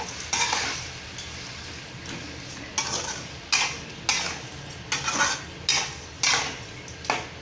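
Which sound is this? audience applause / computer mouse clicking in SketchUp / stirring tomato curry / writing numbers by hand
stirring tomato curry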